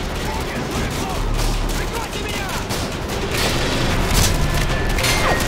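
Missile strikes exploding in the Modern Warfare 2 video game, a run of heavy booms and crackling blasts with whistling debris over a rumbling battle bed, loud and dense.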